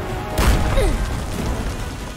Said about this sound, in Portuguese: Porra, toda hora joga uma granada.